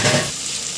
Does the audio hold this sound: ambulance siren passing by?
no